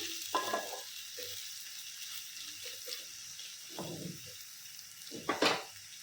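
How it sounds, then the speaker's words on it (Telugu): Boiled peas frying in hot oil for a Telugu aloo masala curry, with soft sizzling bursts and occasional stirring scrapes, intermittent and close, no talk. "ఇవి కూడా కొంచెం నూనెలో వేగనిచ్చేసేద్దాం"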